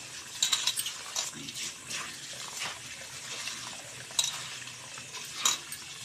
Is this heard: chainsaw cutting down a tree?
no